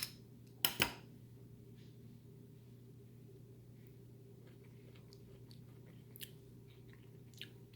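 Lacto-fermented garlic carrots are bitten with two loud, close crunches near the start, then quieter chewing goes on over a low steady hum, with a few faint clicks later.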